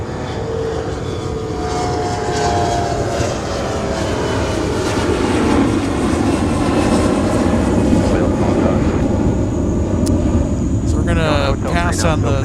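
A CRJ regional jet takes off at a snowy winter airport, its engine roar building into a loud, sustained rumble, buffeted by wind noise on the microphone.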